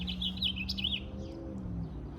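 A small bird chirping in a spring garden, a rapid series of bright high tweets up close, with a low steady hum underneath and no talking.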